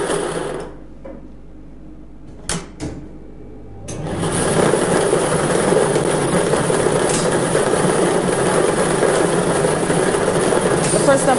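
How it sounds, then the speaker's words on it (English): Lottery balls tumble and rattle inside a midday double-draw machine chamber, a steady dense churning that kicks in after a few sharp knocks and runs continuously at close range. "The balls are released from the staging tube into the chamber."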